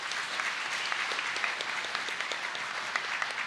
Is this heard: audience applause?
yes